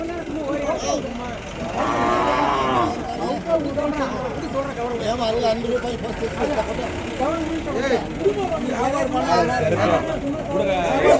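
Cattle at the Kundarapalli cattle market, heard as occasional lowing beneath a dense hubbub of traders talking and bargaining, with a steady crowd murmur throughout.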